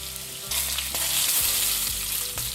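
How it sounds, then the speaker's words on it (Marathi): Chicken strips drop into hot oil in a kadhai and fry with a loud, dense sizzle, with a few bursts as pieces are added and no talking. "आता त्यात चिकन स्ट्रिप्स एक एक करून सोडायचे आहेत"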